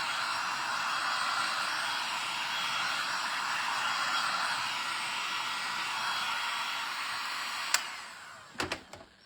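Dryer blowing air over a cozy mitten winter door tag craft project: a steady, close whooshing roar for about eight seconds, then a click as it shuts off, followed by a few brief handling knocks.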